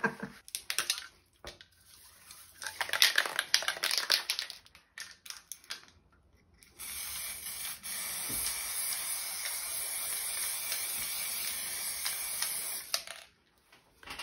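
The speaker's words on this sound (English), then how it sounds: "I might pull out the bronze and maybe spray some in the bronze" Bronze spray paint hisses from an aerosol can in bursts, with a short spray early on and a longer steady hiss midway, separated by quiet gaps and faint handling clicks.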